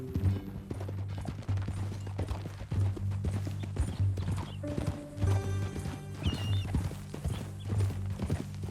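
Horse hooves clip-clop in a steady walking rhythm over a low droning hum and ambient tones, in the video game Red Dead Redemption 2.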